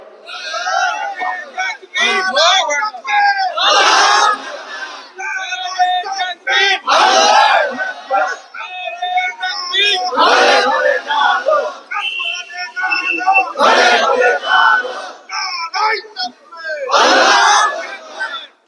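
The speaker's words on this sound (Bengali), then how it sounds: "একটা তাকবীর ধরেন তো দেখি, তাকবীর ধরেন" A rally crowd shouts a takbir chant in unison, loud massed voices rising in repeated bursts with whistles scattered through the noise.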